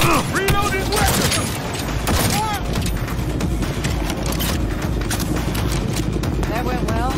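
Sustained bursts of gunfire in a Cyberpunk 2077 firefight ring out loud and dense throughout, with shouted voices cutting in over the shooting.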